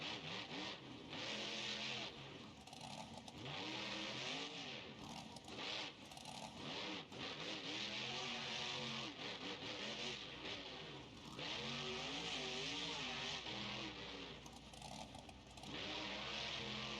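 Monster truck with a 572 big block engine in BeamNG.Drive, roaring and revving continuously in loud surges with rising and falling pitch, as during jumps and power wheelies.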